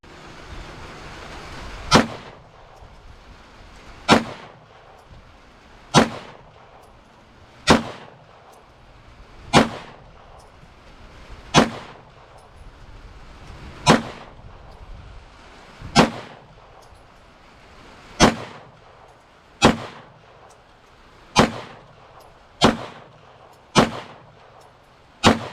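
A Walther PDP pistol fires at a range, about a dozen sharp loud shots spaced a couple of seconds apart, each cracking with a brief echo over a quiet background hum.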